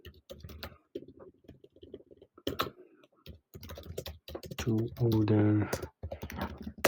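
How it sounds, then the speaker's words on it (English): Computer keyboard clattering as Go code is typed, quick irregular bursts of key clicks close to the microphone, with someone talking over and between the keystrokes. "Let's type in it."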